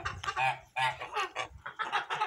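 Young geese, a flock of goslings, give a run of close, fairly quiet honking and peeping calls in quick irregular bursts with short gaps between them.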